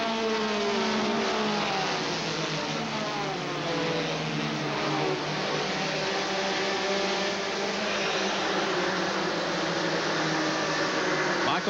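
NASCAR Busch Grand National race cars, including a Pennzoil Pontiac, roar at high revs in a loud continuous engine drone, with pitch sweeping as cars pass during a 1992 race.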